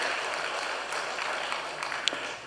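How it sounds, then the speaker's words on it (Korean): A church congregation gives warm welcoming applause to a newly registered member during a Sunday service, with continuous many-handed clapping that is fairly loud and even, plus a few sharper individual claps standing out near the end. "우리 따뜻한 환영의 박수 해주시겠습니다"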